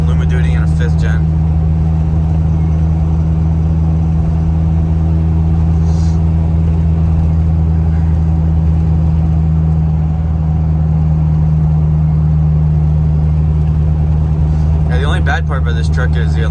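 A SEMA show truck rolls down the road, a loud, steady low engine and road drone filling the cab throughout, with brief higher rattles near the start and end.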